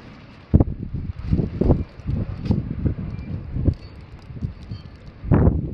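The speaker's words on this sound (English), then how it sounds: "Quite windy." Gusty wind buffets the microphone outdoors on a cold day with light snow falling, coming in repeated rumbling bursts, the strongest near the start and end.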